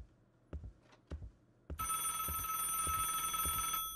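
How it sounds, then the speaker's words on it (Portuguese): A telephone rings in the Roblox horror game ALONE, a loud sustained bell-like electronic ring starting partway through after a few soft footsteps, with footsteps continuing underneath. "O telefone está tocando em algum lugar."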